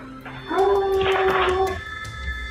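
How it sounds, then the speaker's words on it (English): A dog vocalizes inside a house, a single drawn-out howl-like cry lasting about a second, moderately near, with a voice overlapping it. "a dog barking"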